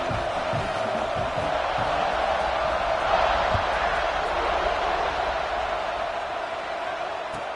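An American football stadium crowd waits for a kickoff after a successful point after, giving off a loud, steady, roaring hubbub that does not let up, with an announcer's voice faintly under it.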